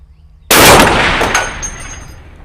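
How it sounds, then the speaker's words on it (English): A gun is fired once in a loud, sharp blast that cuts in abruptly after a half-second of quiet, followed by a long, ringing decay with a faint secondary crack as it fades outdoors. "All right, I'm firing."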